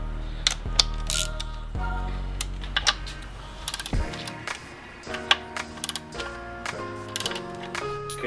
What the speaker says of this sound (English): Now we're gonna grab a 10 millimeter socket